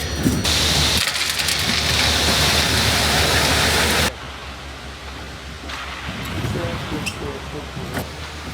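Concrete truck running while concrete pours down an extended chute for a shop floor slab, a loud steady engine rumble and rushing wash that drops to a quieter level midway, with scattered scraping and voices.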